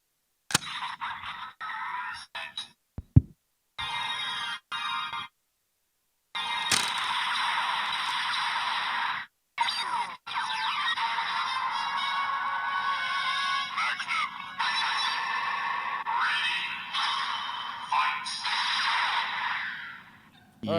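A Kamen Rider toy transformation belt at a fan convention panel gives off bursts of electronic transformation effects broken by brief silences, moderately faint and echoing, with one longer sustained stretch.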